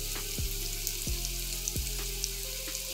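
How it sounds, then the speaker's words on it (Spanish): Chopped onion, garlic and a cayenne pepper frying in extra virgin olive oil in a pan, a steady close hiss of sizzling with a few soft knocks underneath. "en una sartén con un poquito de aceite de oliva virgen extra, le echamos la cebolla y el diente de ajo que hemos picado"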